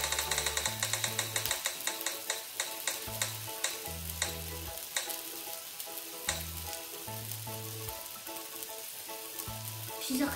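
A burger patty sizzles in a pan, a dense, steady frying hiss with crackling pops, accompanied by a rhythmic low thumping pattern of background music, close-up and without talk.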